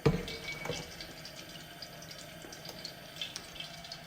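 A Leveluk Kangen K8 water ionizer dispenses water in a steady, close rushing stream, with a sharp onset at the start settling into continuous flow throughout.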